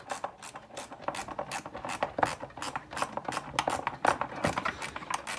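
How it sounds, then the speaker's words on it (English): Small ratchet wrench working a fastener on a Kymco 250 Bet and Win scooter, with rapid repeated close clicking bursts from the pawl in uneven rhythm, loud and alone without talk. "These little ratchety wrenches sure are handy at times."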